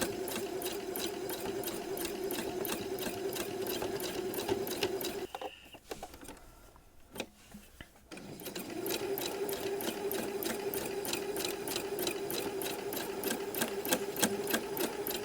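Sewing machine doing bobbin work, stitching an appliqué embellishment for art quilts or hats, runs in a steady rapid whirring stitch rhythm, pausing briefly mid-way before resuming, close and alone without talk.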